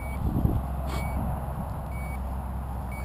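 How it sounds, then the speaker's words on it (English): Low-battery alarm on an RC WarpDrive F-22 jet with an NTM 35-36 motor sounds as faint, evenly spaced high beeps over a low rumbling background. "alarm telling us we got no more left."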